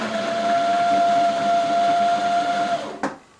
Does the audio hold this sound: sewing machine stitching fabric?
yes